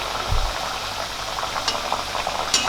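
Wheat-flour butter biscuits fry in hot oil with a steady bubbling sizzle, close and continuous, with a brief low thump near the start and a few faint clicks.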